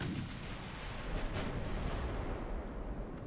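Naval 7-inch guns firing in the Ultimate Admiral: Dreadnoughts warship game, a dense continuous rumble of booming gunfire with a few sharper bursts, loud and steady throughout with no voices.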